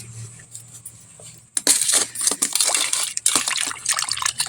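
After a quiet hum, boiled potatoes are put into water, splashing and sloshing with irregular bursts of liquid movement and small knocks, close by.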